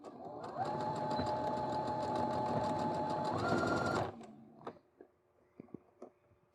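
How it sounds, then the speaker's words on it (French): Sewing machine stitching the sides of a fabric top a centimetre from the edge, a fast, steady mechanical whir for about four seconds, then a few light clicks and handling noises. "on va coudre donc nos côtés à 1 cm du bord"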